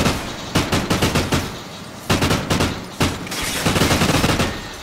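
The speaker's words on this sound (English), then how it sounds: "Delight, just shooting air" Rapid bursts of automatic gunfire from a Call of Duty 1v1 match, several sustained volleys separated by brief pauses, loud and close with no talk.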